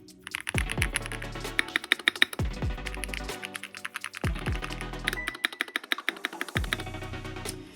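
Typing on a Keychron C3 Pro mechanical keyboard, a close, steady run of sharp key clicks and clacks in quick irregular bursts, with a few heavier low thumps from larger keys, heard alone without talk.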